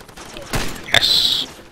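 Enemy gunfire in the video game Far Cry 2, a couple of sharp shots close together with a ringing metallic tail, loud and without talk over it.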